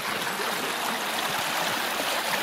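Water rushes steadily out of a full pond and across a road toward a camp pond, a constant broadband flowing roar close by with no voices.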